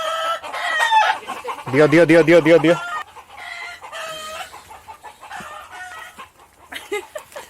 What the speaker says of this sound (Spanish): Hay gallos y gallinas, sí.